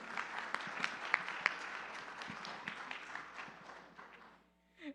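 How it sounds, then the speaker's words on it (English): Audience applause for panelists at a Tamil economic forum, moderate clapping from a seated crowd that swells with a few sharper claps and then fades out toward the end. "let's give a big round of applause to you and to our panelists here"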